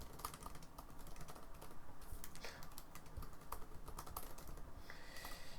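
Typing on a computer keyboard while writing an Ansible playbook: a quiet, continuous patter of close key clicks in irregular bursts, with no voices over it.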